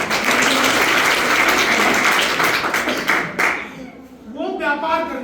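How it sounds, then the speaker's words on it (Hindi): Audience at a televised Hindi debate breaks into dense clapping and applause that fills the first three seconds, then fades as a voice begins speaking over the dying claps. "इसीलिए एक बार ताली बजाओ।"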